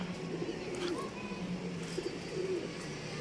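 Pigeons coo in low, soft repeated bursts close by, several throaty calls spread across a few seconds over a steady outdoor background hum.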